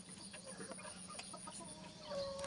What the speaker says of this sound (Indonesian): ayam betelur.